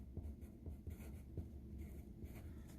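A pencil moves across paper during sketching and note-taking, making soft, close scratchy strokes in short repeated bursts that are very quiet and stand alone.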